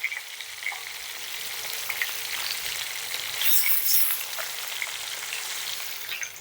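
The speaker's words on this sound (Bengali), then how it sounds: "মাছগুলোকে আমি মিডিয়াম আঁচে লালচে করে এক পাশ ভেজে নিয়েছি।" Koi fish (climbing perch) frying in oil in a pan over medium heat, a steady dense crackling sizzle throughout, close and moderately loud, with a brief louder hiss in the middle as pieces are turned.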